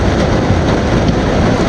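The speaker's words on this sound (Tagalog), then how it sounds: "Sobra talagang lakas ng ulan." Heavy rain pours down in a steady, loud, broadband roar that never lets up, close and unbroken with no talking.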